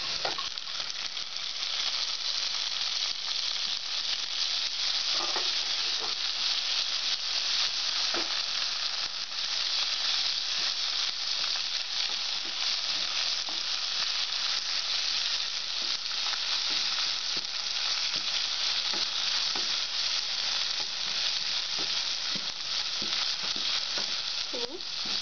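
Golden-brown onions with chopped tomato, green chilli, coriander and curry leaves sizzle in a pan with an even, continuous hiss, with occasional faint clicks of stirring over about 25 seconds.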